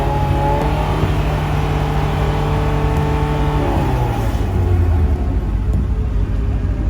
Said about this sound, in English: they're doing a decibel check before the cars go out on the trek here